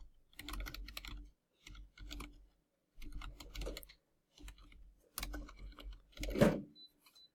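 Fingers tap a computer keyboard in short bursts of quick clicking keystrokes separated by brief pauses, close and fairly quiet with no talking.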